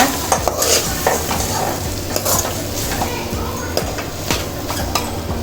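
Egg noodles with chicken fry in a pan as a spatula stirs them, crisp scrapes and occasional metallic clinks ringing over a constant loud sizzle, close up and with no talking.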